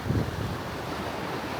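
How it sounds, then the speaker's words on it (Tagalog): Sea waves and surf at the shore, a steady broadband wash with wind noise buffeting the microphone, slightly louder in the opening moment. "Ang ganda ng dagat."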